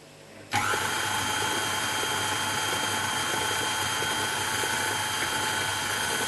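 An electric mixer starts abruptly and then whirs at constant speed with a steady buzzing motor whine, whisking golden syrup sponge pudding batter under a tea towel, loud and close with no talking.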